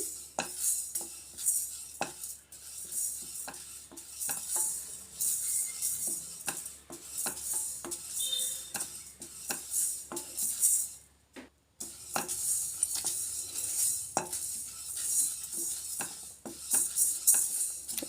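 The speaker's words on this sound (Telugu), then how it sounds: "ఆయిల్ ఏమి వేయకుండా ఇలా దోరగా చక్కగా వేయించుకోవాలి" Gooseberry pieces dry-roast in a pan without oil, with a soft, continuous hiss broken by frequent clicks and scrapes of stirring, close and fairly quiet.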